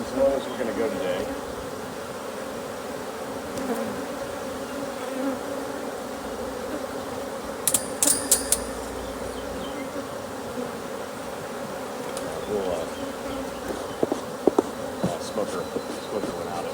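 Honey bees buzz steadily around an open hive being set up for honey production, a dense continuous hum close by with a few brief clicks and knocks from handling the hive parts.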